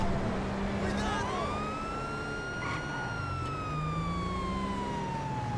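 A police car siren in a video game wails steadily with a slow rising and falling tone, accompanied by engine rumble and a voice talking over it.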